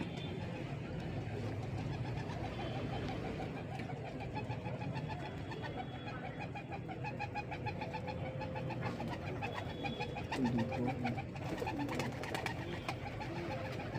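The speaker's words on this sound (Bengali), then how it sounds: "পায়রা বসলো।" Pigeons coo in soft repeated rolling calls after landing outdoors, steady and moderately close, over a low hum of distant traffic.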